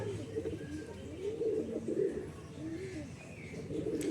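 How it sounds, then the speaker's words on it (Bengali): Male white pigeons cooing nearby, repeated rolling coos in a steady rhythm over light background noise, with no clear talk. "এটা মুন্ডি সাদা জিরিয়া পায়রা আছে দুটোই নর পায়রা"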